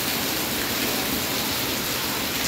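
Heavy typhoon rain pours steadily in a dense, even hiss with no breaks and no voices, loud and close throughout.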